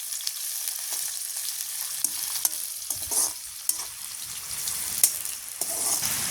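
Food frying in a pan over a village cooking fire is stirred now and then, with a steady bright sizzle and scattered scraping knocks from the spoon, fairly close and with no voices.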